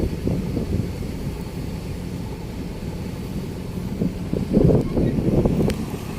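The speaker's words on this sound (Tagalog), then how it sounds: "Mainit na malakas ang hangin dito" Strong wind at a ferry pier in Matnog buffets the microphone with a continuous low rumbling roar, gusting louder toward the end.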